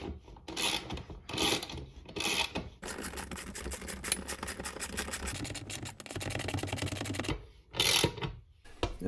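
An extra long lag bolt is driven into wood for a garage lumber storage rack, giving a steady grinding, rasping whir that runs several seconds, broken by short bursts before and after, close and fairly loud with no talk.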